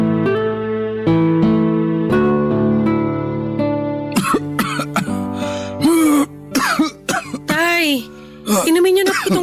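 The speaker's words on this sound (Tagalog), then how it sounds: "Kanina pa talaga ako inaatake ng ubo." An ill elderly father coughs hard and clears his throat in a drama scene; soft music plays first, then repeated harsh, ragged coughs break out loudly close by.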